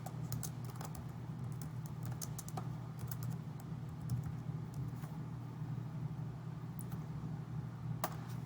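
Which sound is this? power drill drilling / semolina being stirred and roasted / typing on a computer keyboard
typing on a computer keyboard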